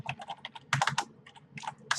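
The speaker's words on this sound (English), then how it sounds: "I'm bad at typing." Rapid keystrokes on a computer keyboard come in quick, uneven bursts with short pauses, close and clear, with no talking.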